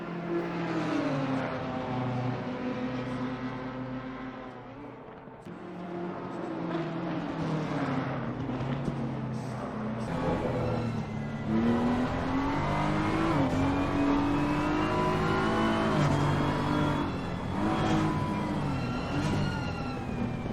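Race cars in Gran Turismo roar past at Australian V-Prix, an Audi R8 among them, sustained engine drones shifting pitch as they accelerate and pass, loud and continuous for the whole stretch.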